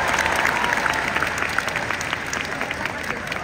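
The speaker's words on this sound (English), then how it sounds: "Another round of applause for Zac Efron." An audience breaks into a round of applause for Zac Efron, dense clapping that starts strong and tapers a little, with some crowd voices underneath.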